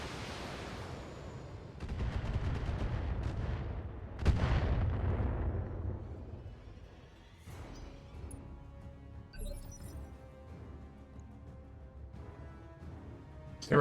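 LRM-15 missile salvo in the BattleTech video game, heavy booming impacts and rumbling blasts rolling loudly for several seconds, then fading into a lower ambient rumble with scattered crackles.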